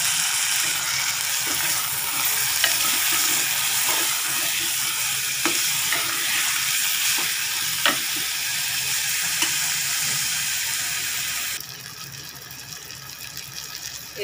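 Tomatoes and garlic paste fry in a hot pan with a steady, dense sizzle, punctuated by occasional clicks and scrapes of stirring, the hiss easing slightly near the end.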